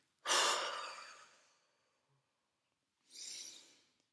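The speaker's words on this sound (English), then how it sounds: "cleansing breath" Lamaze cleansing breath practiced in childbirth preparation: one long, loud, close exhale that fades out slowly, a short silence, then a second softer breath, with no talking.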